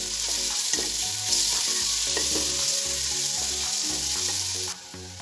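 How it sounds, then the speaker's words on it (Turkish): Chopped onion and carrot sauté in a soup pot, a loud steady sizzle of frying vegetables with intermittent scraping and stirring clatter, no voices. "Soğanımız kavruldu. Havucumuzu ekleyelim. Havucumuzu çok kavurmuyoruz."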